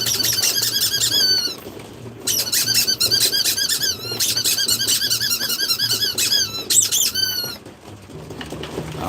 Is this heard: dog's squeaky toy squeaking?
yes